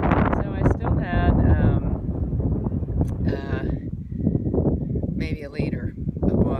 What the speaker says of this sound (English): It's a little windy here, so it's really windy here.